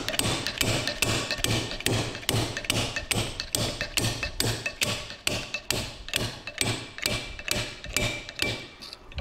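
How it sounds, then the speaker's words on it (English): A part on a Toyota Hilux rear wheel is struck over and over, used like a slide hammer, giving a fast, steady series of loud metallic knocks, about two per second, up close with no talking. "Kind of use that as a slide hammer."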